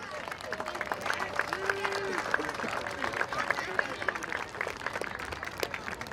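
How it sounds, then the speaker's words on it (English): A crowd applauds at a baseball opening day, with scattered outdoor clapping under a general murmur and a few faint whistle-like tones, fairly quiet and distant throughout. "Please give him a round of applause."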